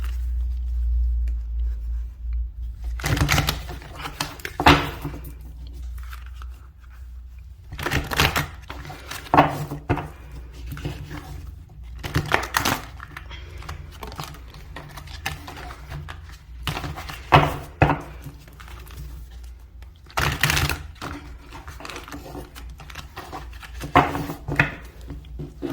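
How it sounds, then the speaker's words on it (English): Tarot cards are shuffled in repeated bursts of crisp riffling and slapping, fairly close and separated by short quiet gaps, with no talking. "I'm just going to shuffle some cards."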